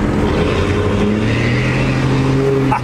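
A heavy first-generation 12-valve diesel truck engine rumbles loudly and continuously, revving with a deep, throaty drone throughout.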